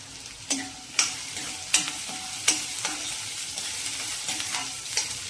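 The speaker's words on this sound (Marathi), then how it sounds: "तर आपण हा कांदा चांगला वाफवून घेऊया, म्हणजे ट्रान्सपरंट होईपर्यंत" Chopped onion with curry leaves sautéing in a pan, a steady sizzle broken by regular clacking spoon strokes about every second, close and clear, with no voices.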